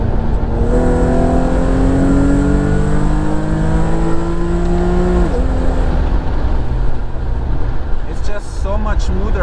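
Infiniti G37 sedan fitted with aluminum crank and alternator pulleys accelerating, engine note rising steadily in pitch then dropping at a shift, loud and close from inside the car.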